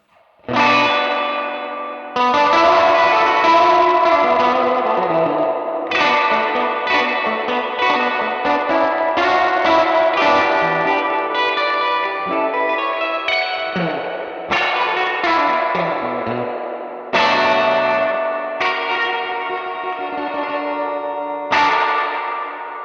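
An electric guitar runs through the spring reverb of a Universal Audio pedal with modulation off, playing loud sustained chords that ring and splash into a long, bright reverb tail between strums, with no talking.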